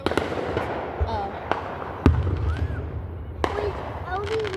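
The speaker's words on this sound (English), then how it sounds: "It's the most illegal firework." An El Diablo firework going off on the Fourth of July: several scattered pops and bangs, one heavy boom near the middle, with crackle and a whistling streak trailing above a noisy outdoor crowd murmur.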